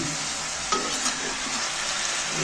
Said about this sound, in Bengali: এটাকে এবার আমি মিক্সড করে দিচ্ছি ভালো করে নেড়ে